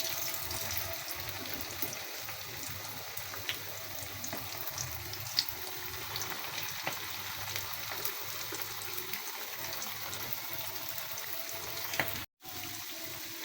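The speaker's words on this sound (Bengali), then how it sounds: "এখন আমি মিডিয়াম হিটে ভেজে নিচ্ছি" Chicken pieces frying in hot oil in a pan over medium heat, a steady dense sizzle and crackle running throughout with small pops, fairly quiet, with no talking.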